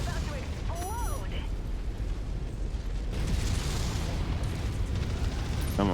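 A mech explodes in the MechWarrior 5 video game: a dense, rumbling roar of combat noise that surges louder about halfway through and stays heavy to the end, with faint electronic chirps early on.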